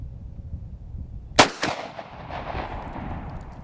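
A single loud gunshot from a hunting gun in a marsh bedding area, a sharp close blast followed by a quick echo and a fading rumble.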